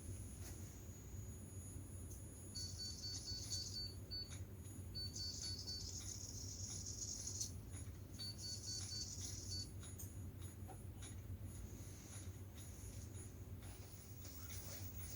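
Motor in the wrist of a self-balancing robot with a humanoid upper body turning, a faint high electric whine in three short bursts over a low steady room hum.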